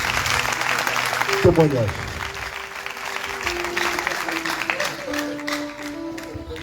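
A church congregation applauds during a revival testimony gathering, with clapping mixed under talk and sustained tones from voices or instruments.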